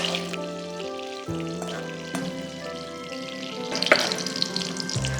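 Cashews and raisins fry in ghee for shavige payasa, a continuous soft crackling sizzle heard up close beneath steady background music, with a brief brighter spatter near the end.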